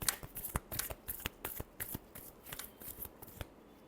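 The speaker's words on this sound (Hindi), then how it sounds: "last shuffle" Tarot cards being shuffled by hand: a rapid run of crisp, papery riffles and taps, close and fairly quiet, with no voices.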